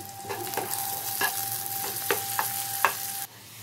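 Dry red chillies, cumin, curry leaves and a pinch of asafoetida sizzle in hot fat for a tarka for chana dal, with a steady close frying hiss and several sharp spoon-stirring clicks, then a sudden cut.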